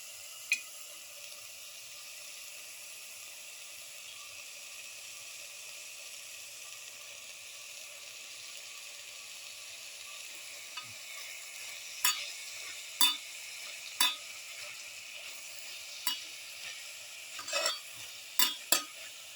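Red spinach leaves stir-fried in a pan of pepper garlic lamb stew, a faint continuous sizzle with intermittent sharp clicks of a utensil against the pan growing more frequent toward the end.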